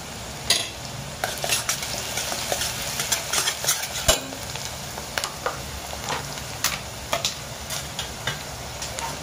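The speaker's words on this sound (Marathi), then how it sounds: "खरपूस चांगला कांदा भाजून घेऊ" Onion frying until crisp for a spiced goat brain fry, with a steady close sizzle broken by frequent crackles and stirring scrapes against the pan, alone without voices.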